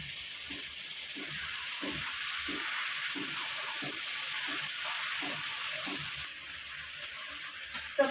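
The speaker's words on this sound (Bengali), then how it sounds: "মাছগুলো আমি খুব কড়াও ভাজবো না, মিডিয়াম করে ভাজবো মাছগুলো।" Baim fish (eel) sizzles steadily in hot oil in a pan, a constant hiss with soft rhythmic bubbling that quiets slightly near the end.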